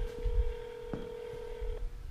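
A telephone keypad sends a few DTMF dialing tones, with a steady tone and brief beeps punctuating it, heard close and clear with no one speaking.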